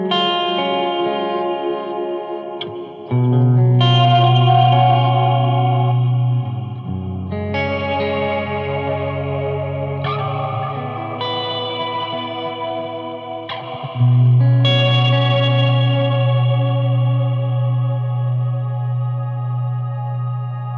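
Electric guitar through an amp on its other mode with a drive pedal, playing sustained, chorus-and-echo-washed chords with rich harmonics, swelling louder at several chord changes, close and alone without talk.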